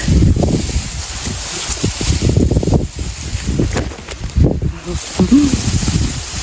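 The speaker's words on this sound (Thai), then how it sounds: "ลมก็แรงหน่อยเด้อค่ะ" Strong wind gusting across a wheat field in Denmark, a loud, continuous buffeting rumble with bursts of microphone wind noise throughout and someone talking over it.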